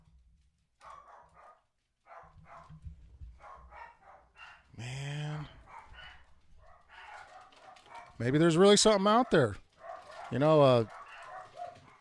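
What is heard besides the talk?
dogs barking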